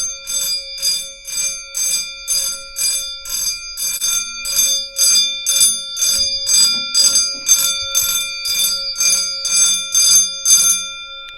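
An Edwards fire alarm bell, set off with smoke saber spray during a system test, rings loudly in rapid repeated bursts of about two per second, close and steady, with faint background movement.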